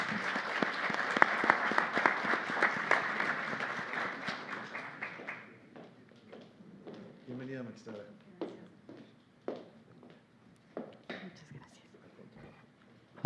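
Applause at a legal seminar, a moderate burst of audience clapping that fades after about five seconds into scattered claps and room noise.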